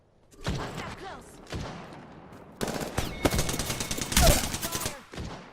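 Gunfire rattles in Apex Legends: bursts of automatic shots and sharp single cracks pile up loudly, with brief game voice callouts mixed in.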